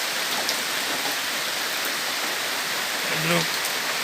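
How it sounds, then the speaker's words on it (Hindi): Steady heavy rain falls on a village, a broad continuous hiss of drops pounding surfaces nearby, with a brief human voice cutting in near the end. "ये कितना बारिश।"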